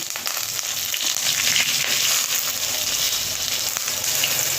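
Eggplant frying in a pan with turmeric going in, a steady dense sizzle with faint stirring scrapes running evenly throughout, close and fairly loud with no voices.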